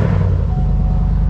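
A car engine running without a muffler gives a loud, deep, rough idle rumble with a pulsing low throb, steady and close throughout the short stretch.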